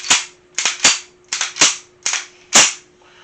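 Mechanism of a Paratech double-stack 1911 pistol cycling, seven crisp metallic clacks in an uneven rhythm, close and loud with nothing else heard.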